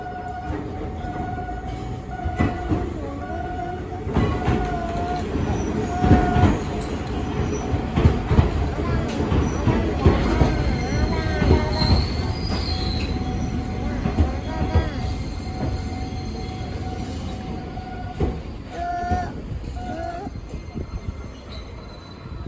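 An Enoden electric train rolls into Enoshima station past a level crossing inside the station grounds, its rumble building and holding with squealing wheels and clacking rails, then easing off, while people talk nearby.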